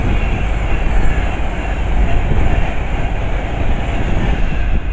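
A fast passenger train on the London Euston to Manchester Piccadilly service rushes through Harrow & Wealdstone station, a loud, close, continuous roar with rail rumble and clatter and no voices.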